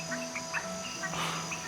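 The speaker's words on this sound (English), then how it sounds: "Great night for frogs. They're croaking everywhere," Red-webbed tree frogs call at night in a steady chorus, repeated short croaks and chirps rising over a constant insect drone, with no voices.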